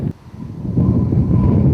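Outdoor wind buffets a Sony HVR-A1J HDV camcorder's microphone in a quiet open area, a loud, steady low rumble that swells after a short lull and carries on without speech.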